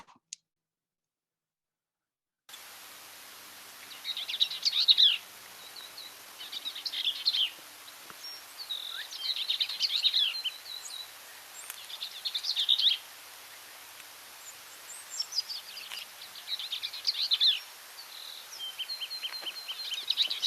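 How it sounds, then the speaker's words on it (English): About six bird species sing in the distance, mainly a Bell's vireo, repeated bright chirping phrases and trills recurring every few seconds over a quiet background, with no talking. "I heard about 6 species in there. The main species was a Bell's vireo"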